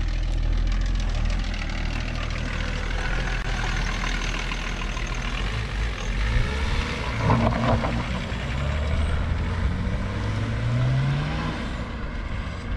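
A camper van engine starts and settles into a steady, loud, rumbling idle heard close up, with a brief rise in revs partway through.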